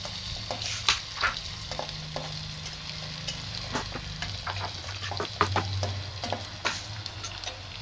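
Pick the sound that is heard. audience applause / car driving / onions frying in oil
onions frying in oil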